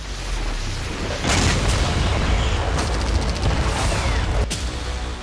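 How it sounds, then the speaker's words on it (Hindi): Several heavy blasts from FAB-500 guided bombs dropped by Russian jets on Ukrainian military positions, a loud sustained rumble with sharp bursts breaking through about a second in and again near the end, no voices. "विमानों के गुजरते ही एक के बाद एक कई बड़े धमाके हुए"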